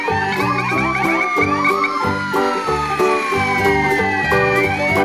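A toy police car siren wails in a looping electronic pattern, loud and close, with repeating rising and falling tones.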